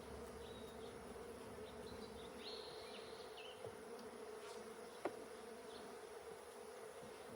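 A steady hum of honey bees buzzing around a honey frame fills the air, with occasional nearby passes and a faint click.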